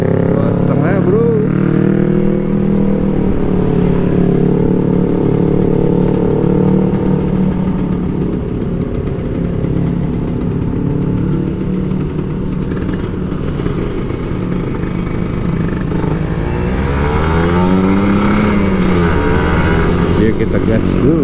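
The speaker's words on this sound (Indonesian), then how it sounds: "Kita gas dulu, kita gas lagi bro Ninjanya" Kawasaki Ninja RR 150 two-stroke motorcycle engine revving up and settling in steady bursts at close range, a continuous mid-pitched drone with rising sweeps, with someone talking over it throughout.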